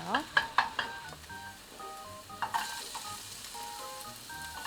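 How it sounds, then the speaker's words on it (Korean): Garlic stir-frying until golden for a ham and vegetable stir-fry, a continuous bright sizzle near the pan with a few clicky spatula taps at the start and faint tonal beeps running underneath. "노릇하게 마늘을 볶아줍니다"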